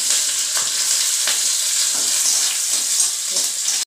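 Chopped onion drops into hot oil already tempered with green chili and black cumin seeds, setting off a loud, steady sizzle with soft stirring scrapes, close and continuous, while preparing a rohu fish curry with potato and eggplant.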